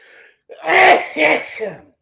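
A single close sneeze bursts out sharply in a quiet room, with a short breathy intake before it.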